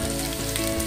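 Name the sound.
vegetables frying in oil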